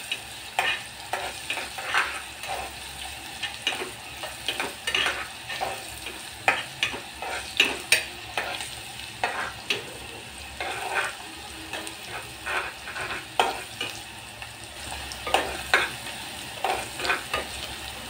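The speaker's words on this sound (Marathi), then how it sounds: "कांदा आणि लसूण तेलामध्ये भाजतोय आपण." Chopped onion and garlic fry in hot oil while a spatula stirs and scrapes the pan in an irregular rhythm of sharp strokes over a steady sizzle, close up, with no talking.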